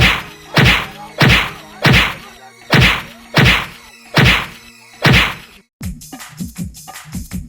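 Comedy-skit beating of a man, heard as six loud, evenly spaced thwacking thuds close up, then a quicker scuffle of softer hits and shuffling with no talk over it.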